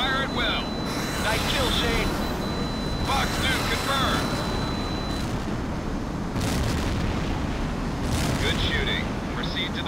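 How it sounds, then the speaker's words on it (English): Missiles strike ground targets in the flight combat game Tom Clancy's H.A.W.X., flown in an F-18, with loud booming explosions and rumbling blasts over a constant roar and radio chatter. "Use your missiles to engage the ground targets as soon as you have a missile lock."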